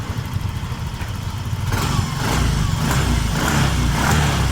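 A Yamaha Soul GT 125 LED scooter engine idles at about 1500 to 1600 rpm, a close, loud, steady rumble that grows slightly fuller midway with no talk over it.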